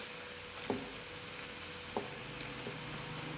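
Ready-made fish balls fry in hot oil with a steady, faint sizzle. Two soft clicks or pops stand out above it.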